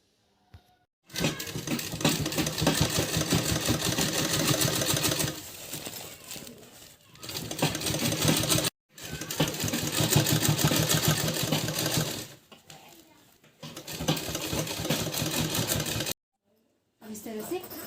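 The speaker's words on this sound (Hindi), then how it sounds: "यहाँ से इसमें पूरी सिलाई कर देंगे पूरे गोल राउंड में" A sewing machine stitches fabric for a handbag in long, steady runs of fast mechanical whirring broken by brief pauses, with someone talking in between.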